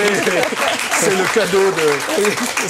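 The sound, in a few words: applause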